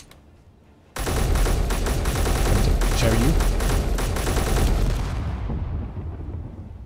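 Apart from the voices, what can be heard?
warhead exploding in the video game Space Engineers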